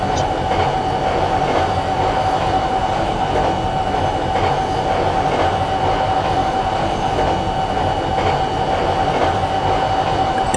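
A New York subway train on the A line runs through the OpenBVE multiplayer train simulator, crossing the bridge toward Broad Channel. A steady loud rumble continues throughout with a constant tone, faint rhythmic clicks and no talking.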